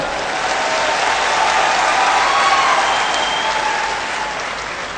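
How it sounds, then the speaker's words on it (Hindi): An audience at a political speech in Hindi claps steadily, a dense, sustained round of applause that swells slightly in the middle and tapers toward the end, with no speech over it. "ताली बजाओ तो फिर अच्छे ढंग से बजाओ"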